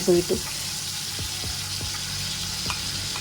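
Chicken coated with sauce frying in a pan, a steady close hiss and sizzle with a few brief clicks of stirring or handling, no talking.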